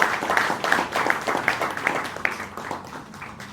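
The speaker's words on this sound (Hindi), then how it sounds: "जोरदार तालियां।" Applause from an audience after a Hindi stage play, steady clapping that carries for a few seconds and then slowly fades.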